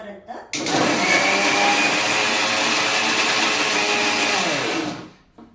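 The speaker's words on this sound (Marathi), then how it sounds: "मग मिक्सर मधून त्याला मस्त बारीक होतो" A mixer grinder blends beetroot with a little water for juice, starting abruptly with a loud, steady whirring roar that runs for several seconds before winding down and stopping; faint handling noise precedes it.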